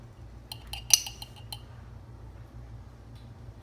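Small metal measuring spoons clink together a few times while ground coriander, cumin and salt are added for falafel, a short cluster of faint, bright taps over a low steady kitchen hum, then quiet.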